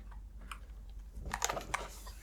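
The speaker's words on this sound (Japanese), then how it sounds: "この薄型なんですよね。 メカニカルキーボード。" Typing on a new low-profile mechanical computer keyboard with thin keycaps: quiet, uneven clicks and clacks that gather into a denser burst of keystrokes toward the end, heard alone at low volume.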